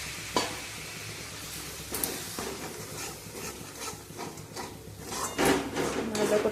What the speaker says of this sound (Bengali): দিয়ে ভালো করে মশলাটা আবার কষিয়ে নেব